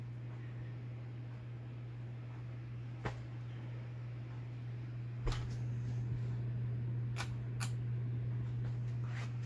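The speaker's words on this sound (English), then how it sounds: "Start to really hear that hum when you turn the speed down." Steady low electrical hum from a Hampton Bay Harbor Light ceiling fan turning at low speed, a constant faint drone with a few soft clicks and taps over it.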